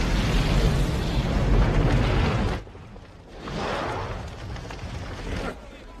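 A car explodes in a film: a loud, roaring blast with a sustained rushing burn, a sudden drop, then a second swelling wave of rumble and debris.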